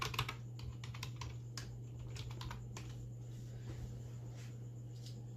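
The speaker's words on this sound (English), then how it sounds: "You just have to write your password." A password is typed on a computer keyboard at an Ubuntu login screen, with steady, uneven key clicks close by over a low constant hum, quiet and without talking.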